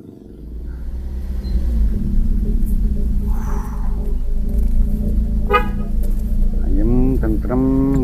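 A car rolls in with a steady low engine rumble and sounds a few horn toots, loud and close, with voices over the final moments.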